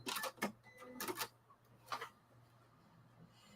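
Several short bursts of a sewing machine stitching through layers of fabric for grocery bags, separated by pauses over a faint steady hum in a quiet room.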